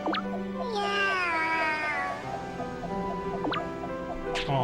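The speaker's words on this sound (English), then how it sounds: "Oh, kitty." A cat meows loudly and close by in a long, drawn-out, wavering cry, with a shorter mew later on and a gentle rhythmic dripping or ticking underneath.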